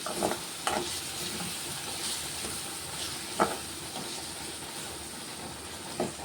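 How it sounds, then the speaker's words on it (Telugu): Ginger-garlic paste fries in a pan for a spicy chicken fry, a steady soft sizzle with a few scraping stirs of a spoon against the pan, close and fairly quiet, with no talking. "ఒక రెండు నిమిషాలు ఫ్రై అవ్వండి కొంచెం అల్లం వెల్లుల్లి పేస్ట్ ఫ్రై అయిపోయింది"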